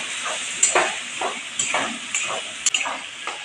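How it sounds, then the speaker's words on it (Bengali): Masala spice paste with Kashmiri chilli powder frying and being stirred in a pan, a steady sizzle broken by repeated scraping strokes of the spoon at a loose rhythm, close and fairly loud with no voices. "এই মশলাটা আমি ভালো করে একটু কষিয়ে নেব।"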